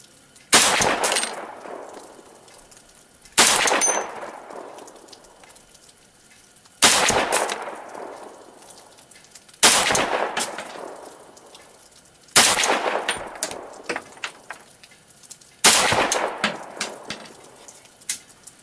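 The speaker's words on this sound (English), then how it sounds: "taking my first shots with a 300 AAC Blackout" Six loud, evenly spaced gunshots from a 300 AAC Blackout rifle with a metal magazine ring out at a shooting range, each crack followed by a long, echoing decay.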